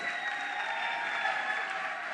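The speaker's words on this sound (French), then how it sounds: "On applaudit pour Joyce." A crowd claps steadily, a dense even patter of applause filling the space with no voices standing out.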